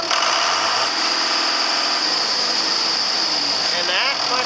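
A diesel engine of a 7410 runs loud and steady after an injector pump repair, then revs up near the end, while voices talk close by.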